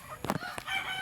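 A chicken gives a short, quiet squawk nearby, a quick burst over faint background noise.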